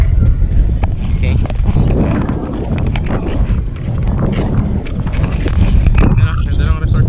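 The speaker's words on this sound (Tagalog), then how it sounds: "Mahangin." Steady wind rushes and buffets outdoors at a beachside resort, a loud continuous roar with gusty fluctuations, while people talk over it.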